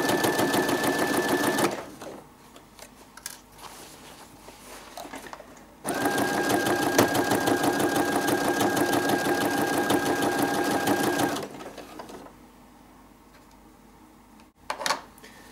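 A sewing machine topstitches the bias binding on a lengthened or repaired hem, running loud and close in two long bursts with a pause between, then stopping, no talking over it.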